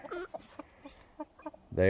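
Chickens and roosters clucking in an Alaska backyard coop, a run of short, fairly close clucks ending in a louder, longer call, with no talking.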